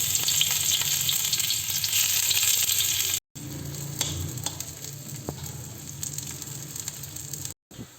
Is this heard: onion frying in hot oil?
yes